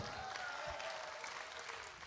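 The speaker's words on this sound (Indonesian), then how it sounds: "Sekali lagi kita berikan tepuk tangan dong untuk Cik Abdel." An audience applauds at an Indonesian political talk event, a steady, dense wash of clapping that holds evenly throughout, moderately distant and without pause.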